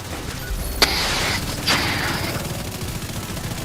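Gunfire in The Division 2 video game: two sharp shots ring out about a second apart over a steady bed of game noise, with a long bright crackling tail after each.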